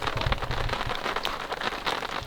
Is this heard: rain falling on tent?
yes